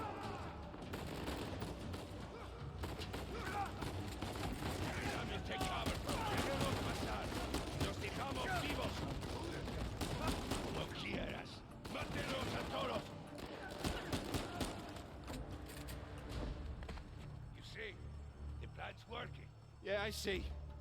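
Rapid gunfire crackles through an Uncharted 4 firefight as bullets strike the player, with dense bursts of shots and impacts under someone talking. The shooting thins into scattered sharp cracks near the end.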